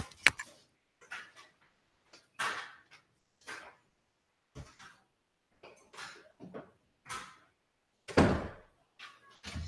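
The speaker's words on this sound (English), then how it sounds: "let me close this door real quick, the laundry room door" Laundry room door being closed: a string of close knocks, clicks and thuds from handling the door, with a heavier thump near the end.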